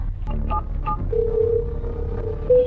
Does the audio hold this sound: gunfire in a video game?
no